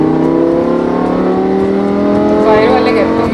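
A Lamborghini Huracan engine revs hard while driving on a road, a loud, close, sustained roar that climbs in pitch as the car accelerates.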